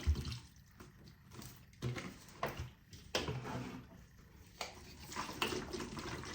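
Water poured into a large pot for simmering hibiscus flower tea, several liters going in as uneven splashing, dripping bursts, near and moderately loud, with no talk.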